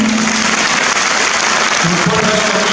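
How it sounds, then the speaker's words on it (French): Graduation ceremony audience applauding, a dense, steady roar of clapping from a large hall crowd lasting the whole moment. "Et vous avez le droit de les applaudir"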